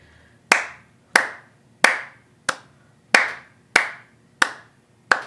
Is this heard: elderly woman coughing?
no